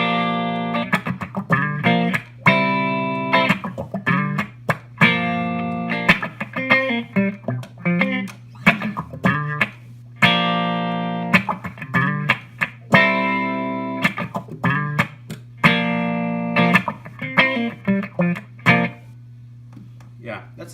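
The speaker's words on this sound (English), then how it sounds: "is the Auto Wah, and that kind of sounds like this." Electric guitar run through an auto wah pedal, with distortion and chorus colouring; a long stretch of choppy, rhythmic chord and note stabs with sweeping filtered tone, close and fairly loud, playing alone.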